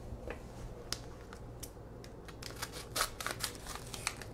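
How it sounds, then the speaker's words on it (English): Quiet, crisp snips of scissors cutting through a thin seasoning mix packet, several short clicks and crinkles close by with no talking. "You may want scissors."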